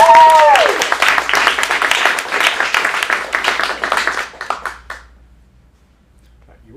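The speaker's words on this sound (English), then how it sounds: "Let's give him a round of applause." An audience at an adult acting studio showcase in Phoenix claps for a few seconds, the applause loud at first and then thinning and fading away, with a brief voice at the very start.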